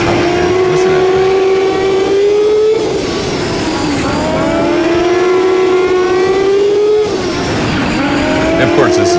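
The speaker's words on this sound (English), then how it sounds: "Oh, gotta give a thanks to TJ Richmond for his Hayabusa nitrous oxide powered motor that he lent me that I just flipped the switch and here we go." A nitrous oxide powered Hayabusa race motor revving hard, a loud close whine that climbs in pitch, drops back and climbs again across several long pulls, with a person talking over it.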